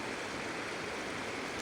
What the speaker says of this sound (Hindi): ये बहती नदी का प्यारा सा साउंड सुनो, कितना सुकून भरा साउंड है